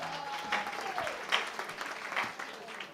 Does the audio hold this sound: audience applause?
yes